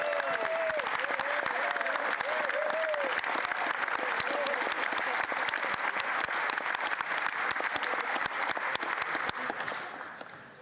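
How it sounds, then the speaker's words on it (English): Members of parliament in a legislative chamber break into sustained applause and cheering during a budget speech, a dense, loud clatter of clapping that fills the room throughout, with a faint voice rising over it early on. "See, even the Conservatives are cheering, Mr. Speaker"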